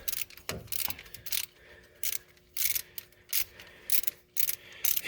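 A Stanley hand ratchet clicks in repeated short bursts, sharp and close, with brief pauses between strokes while working on an EFI 460 engine.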